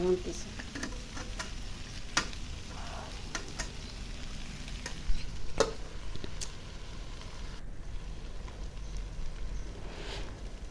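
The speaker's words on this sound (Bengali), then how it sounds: "এখন এই মশলা দিয়ে আমি পুরো লেড়ে চেড়ে মিক্স করে নিব" Egg vegetable noodles being stirred with a spice mix in a frying pan, the spatula scraping and clicking steadily over a continuous sizzle that runs the whole time.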